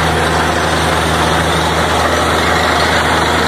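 A borewell drilling truck's heavy engine running steadily at night, a loud continuous low hum and rumble with no talking.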